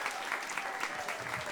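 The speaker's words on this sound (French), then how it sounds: "on les applaudit bien fort" An audience claps in dense, steady applause for about a second and a half, a continuous wash of many hands at moderate level with no talking over it.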